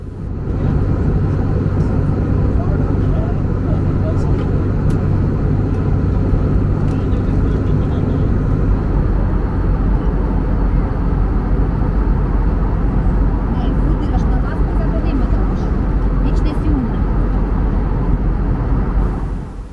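Spirit Airlines airliner taking off from Orlando Airport at dusk, heard from inside the cabin as a loud, steady engine roar and rumble that holds continuously throughout.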